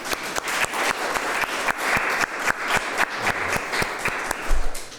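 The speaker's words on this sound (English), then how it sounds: "One more round of applause for everybody." An audience at a poetry reading applauds steadily for about five seconds, with dense, even clapping from many hands and no voices over it.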